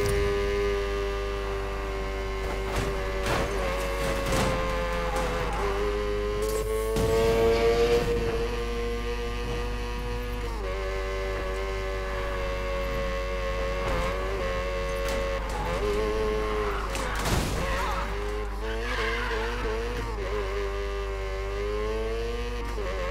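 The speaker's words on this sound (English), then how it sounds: "Car sounds fucked, guys. Like, it can't handle anymore." A struggling Mazda RX7 engine in Need for Speed Payback drones and revs unevenly, pitch rising and falling in wavering surges with sharp transient bursts, loud and continuous throughout.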